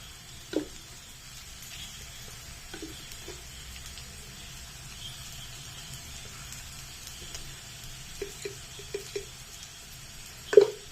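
Chili powder frying in oil in a pan for mango pickle gives a faint, steady sizzle, broken by a few sharp clicks and scrapes of stirring. No one speaks.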